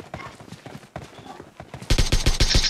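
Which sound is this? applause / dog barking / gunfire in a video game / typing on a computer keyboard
gunfire in a video game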